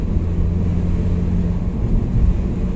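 A Saab 9-5 in sport mode accelerating, its engine a steady low rumble with strong low-end drone throughout, recorded from inside the car with some wind noise and no talking.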